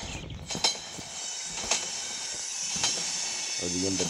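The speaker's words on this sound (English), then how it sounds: "time to apply the brake" A steady hiss of air brakes from a freight train in a train simulator video game, with a few faint clanks and a low rumble building near the end.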